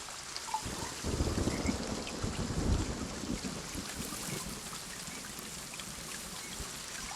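Heavy rain falling steadily, with low rumbling thunder-like swells near the start, a dense continuous wash of noise with no voices.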